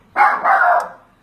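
A single dog bark, close and fairly loud, a drawn-out two-part yelp that fades quickly, heard alone in a quiet indoor space.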